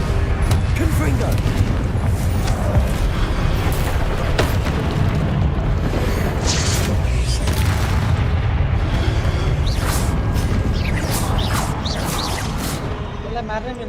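Fire-blast spell explosions from the Confringo spell in Hogwarts Legacy, a dense run of booming bursts layered over loud game music and effects that continue without pause, with talking mixed in.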